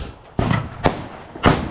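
A 25-round Supreme hot air balloon sky shot cake fires during Diwali, with three sharp launch thumps spaced under a second apart, each a loud close burst, the last the strongest.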